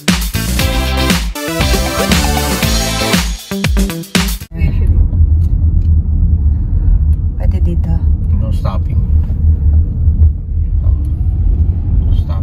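A car driving past on a road in the Philippines, a loud steady low engine rumble and road noise after a burst of music, continuous and close.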